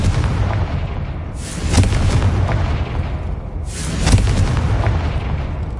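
Confringo spell cast in the video game Hogwarts Legacy: two loud explosive blasts about two seconds apart, each a sharp boom with a crackling tail, over a steady rumbling game background.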